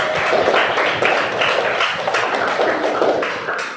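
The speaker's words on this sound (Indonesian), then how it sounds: "tepuk tangan untuk Andra" Classroom applause for a student named Andra, a dense, steady patter of many hands clapping together, fairly close and continuous, fading slightly toward the end.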